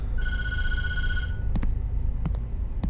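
An in-game telephone rings in the Tattletail horror game, a bright electronic bell with steady harmonic tones lasting about a second, followed by a few sharp clicks over a dark background hum.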